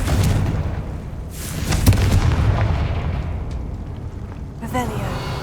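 A Confringo fire spell in a Hogwarts video game sets off a deep, rolling explosion that rumbles loudly for several seconds, with crackling bursts near the end.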